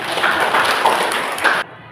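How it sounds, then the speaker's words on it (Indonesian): Brief burst of applause from a classroom of students, dense overlapping claps lasting about a second and a half before cutting off abruptly, fairly close and loud. "Berikan tepuk tangan dulu"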